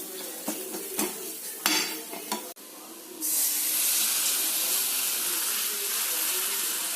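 Water is poured into chicken fry masala in a pan for a cauliflower curry, a steady bright hissing sizzle that starts abruptly and fills the second half, after a few sharp clinks and taps of utensils.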